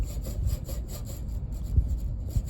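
Repeated gritty rubbing strokes, a sizzly scraping of paper over an inked fish for a gyotaku print, steady and close with occasional louder scuffs.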